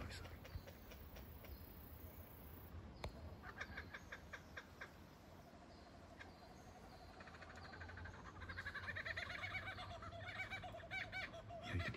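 Lyrebirds call in the Dandenong Ranges forest, imitating kookaburras with varied, repeated whistles and chattering phrases. The calls are moderately distant and rise toward the end over rustling background noise.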